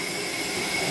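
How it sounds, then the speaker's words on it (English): Kitchen tap water running steadily into a sink while dishwater is drawn, a continuous broadband hiss with no break, close and fairly loud, no voices. "Sorry that you hear my water running"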